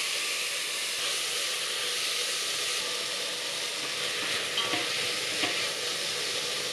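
Meat and tomatoes stir-fry in a hot pan with a steady, close sizzle and hiss, with light scraping and stirring now and then, while sour tomato soup is being cooked.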